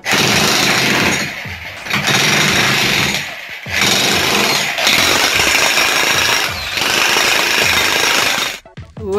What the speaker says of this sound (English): You sound like you're getting a bit too excited with that drill.